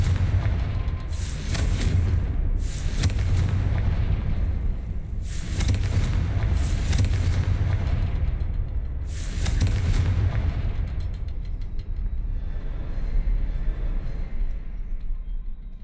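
Repeated Confringo blasting spells exploding in Hogwarts Legacy, several loud, deep booms landing in quick bursts with rumbling tails that fade toward the end.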